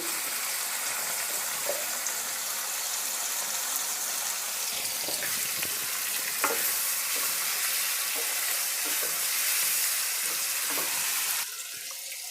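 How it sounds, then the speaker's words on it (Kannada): Boiled bottle gourd tipped into hot oil for a pickle, giving a steady bright sizzle and crackle with scattered pops and stirring clinks, fairly close and continuous, ending with a softer hiss. "ಸೊರೆಕಾಯಿನ ಡೈರೆಕ್ಟಾಗಿ ಹಾಕ್ಕೊಳ್ತಾ ಇದ್ದೀನಿ ಬೇಯಿಸಿರೋದನ್ನು ಎಣ್ಣೆಗೆ ಸೇರಿಸ್ಕೊಳ್ತಾ ಇದ್ದೀನಿ"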